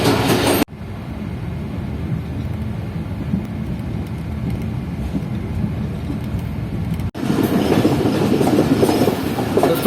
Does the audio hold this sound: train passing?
yes